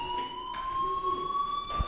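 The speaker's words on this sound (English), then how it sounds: "Hey, do you hear that fire alarm?" Fire alarm ringing in the video game Life is Strange: a steady, high electronic tone with bright harmonics sounds continuously and fairly faintly, with a few soft background thumps.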